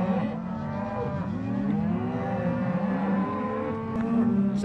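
Cattle low repeatedly in a working pen as calves are sorted off the cows, several drawn-out moos overlapping at close range over a steady background, with no talking.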